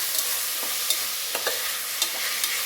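Vegetables and mutton are stirred in a pot over heat, a loud nearby sizzle punctuated by sharp scraping and clinking strokes of the spoon, several in quick succession, with no talking.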